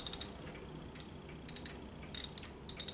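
A ratchet socket wrench clicks in a home workshop in short quick bursts of crisp metallic ticks, close and fairly quiet, separated by brief pauses.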